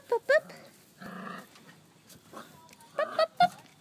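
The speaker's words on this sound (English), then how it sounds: "Puppies." Puppies yip and whine in short bursts, with a longer whimpering cry in the middle, close by and fairly soft.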